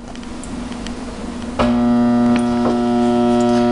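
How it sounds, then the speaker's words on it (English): A jammed kitchen food disposal unit hums loudly and steadily once switched on, its motor not turning; the strong electrical drone starts abruptly and holds alone. "You hear the food disposal humming, the wheels are not turning, and the unit is not functioning."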